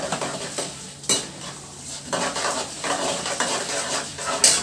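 Chana dal roasting in a pan as a spoon stirs it, giving soft scraping and rattling with a few sharper clinks against the metal, steady and close with no talk.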